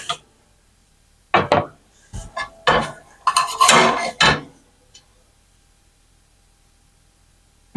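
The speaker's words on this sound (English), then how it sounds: "now I'm going to cut the bacon up" A knife slices bacon and taps against a board in a few quick bursts of cutting, then silence.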